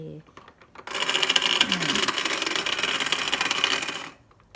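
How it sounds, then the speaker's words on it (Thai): A toy blender whirs with a steady buzzing motor hum that starts abruptly, runs for about three seconds and then cuts off, with faint sounds before and after it. "ปิดฝา แล้วก็ปั่นโอเค"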